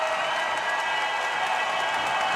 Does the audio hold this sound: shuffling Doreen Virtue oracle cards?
no